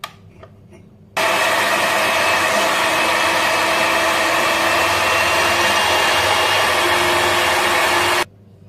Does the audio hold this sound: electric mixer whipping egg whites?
yes